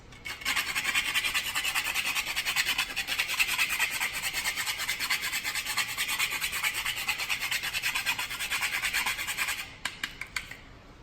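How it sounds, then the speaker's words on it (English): Whole nutmeg grated by hand over a bowl of banana oatmeal porridge, a steady close rasping scrape repeating in quick strokes for about ten seconds, then a few lighter final scrapes. "I usually put the nutmeg once I do the bowl, because I'm doing the old-fashioned way where you have to grate it."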